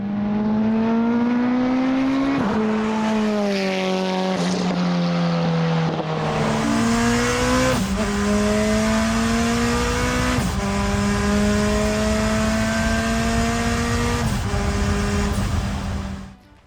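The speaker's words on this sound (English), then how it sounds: "I gave the car full throttle on the straights, and to say it's fast is an understatement." A Honda-swapped Ferrari screams at full throttle on a race track, its engine pitch climbing through the gears with brief drops at each shift, loud and sustained from start to finish.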